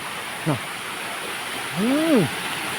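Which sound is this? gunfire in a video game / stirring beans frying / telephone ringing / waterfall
waterfall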